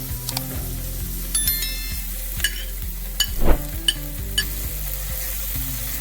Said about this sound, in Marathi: आता यामध्ये बारीक कट करून घेतलेली मिरची टाकून चांगलं परतून घेऊया.